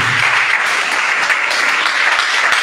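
A church congregation bursts into sustained, dense applause, loud and even throughout with no voices on top.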